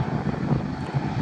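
A steady rumbling airplane engine drone as a plane approaches to land at KLIA, moderately loud and continuous, with some wind buffeting on the microphone.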